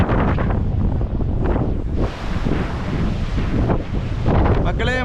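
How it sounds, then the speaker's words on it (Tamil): Strong wind buffets the microphone on an exposed hilltop in Dindigul, a continuous loud roar with gusting surges throughout. "காற்று உச்சியில் நிற்கவே முடியல, தள்ளுச்சு."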